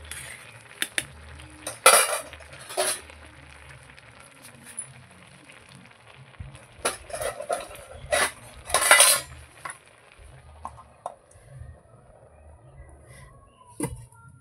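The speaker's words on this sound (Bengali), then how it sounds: "ভাত আমার হয়ে গেছে, ভাতটা আমি নামিয়ে নিচ্ছি।" A cooked rice pot is lifted off a newly built outdoor clay stove, giving scattered metallic clinks and clatters of the vessel against the stove. The clinks are irregular and close by, with no talk.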